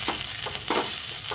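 A filling with crushed green chilli fries in a pan until crumbly, giving a loud, steady sizzle broken by rhythmic stirring scrapes.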